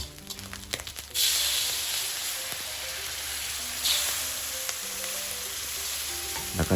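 Thai red curry paste frying and being stirred in hot oil for a pork curry with Thai eggplant: a steady, close, loud sizzle like rain on a surface, with a few clinks and scrapes, and no talking.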